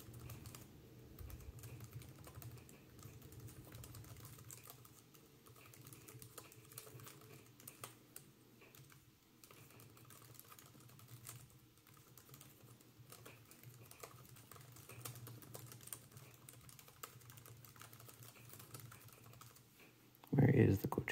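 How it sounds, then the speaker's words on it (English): Fast typing on the small built-in keyboard of a GPD Pocket 3 mini laptop, a quiet continuous patter of key clicks that runs steadily for the whole stretch, ending in a louder thump. "Let's try a typing test."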